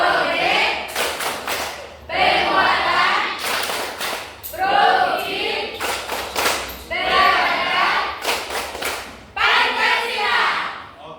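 Class of students and teacher performing the P5 patterned clapping chant, bursts of rhythmic group claps alternating with sharp sequences of loud in-unison claps, repeated several times in a close room with voices chanting along.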